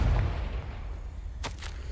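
A Confringo fire spell goes off in the Hogwarts Legacy video game: a short, sharp blast with a crackling burst, heard over a steady low rumble of game ambience, with no voices.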